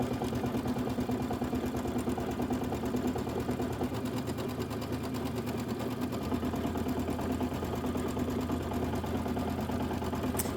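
Sewing machine stitching a placement stitch for quilt batting on a pumpkin-themed quilt border, a continuous rapid mechanical whirring and chattering at close range, steady throughout.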